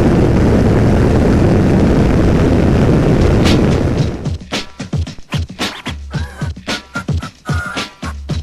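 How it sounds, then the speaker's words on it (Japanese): Kawasaki Versys 250 motorcycle at full throttle, a loud continuous engine and wind roar for about four seconds, then the drone drops and gives way to a run of sharp rhythmic thumps and bursts. "今フルスロットルです。 フルスロットルだとベルジスはこういうスピードの挙動です。"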